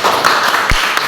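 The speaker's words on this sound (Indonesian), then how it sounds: "Ya tepuk tangan." Students in a classroom break into a short burst of applause, close by and lasting about a second.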